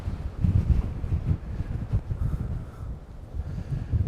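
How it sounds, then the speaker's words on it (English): Strong wind blasting a microphone on an Edinburgh hilltop, a heavy low rumble with continuous gusting surges, no talking. "Whoa, it's windy."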